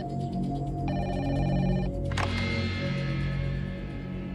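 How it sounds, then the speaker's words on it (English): A telephone rings loudly and nearby with a steady electronic trill, then a sharp click breaks in as the call is picked up, leaving a dense background hum. "When Yolanda answers the call, she's hysterical."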